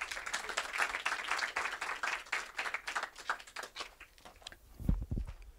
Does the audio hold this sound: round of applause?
yes